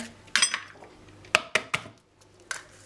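Butter, sugar and three whole eggs are mixed in a bowl for frangipane, heard as a handful of separate clinks and scrapes of a utensil against the bowl, with short pauses between them and no talk.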